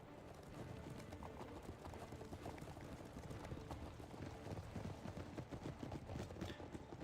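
Horse Guards cavalry gallops in from the side in a modded fantasy strategy game, with dense rhythmic hoofbeats clattering steadily and building slightly in loudness, plus a faint whinny and distant battle noise.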